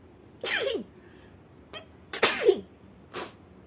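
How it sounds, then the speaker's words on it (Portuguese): A woman sneezes twice, each a sharp loud burst with a rising vocal tail, followed by a brief softer breath-like sound, in an otherwise quiet room. "Ai, vou espirrar."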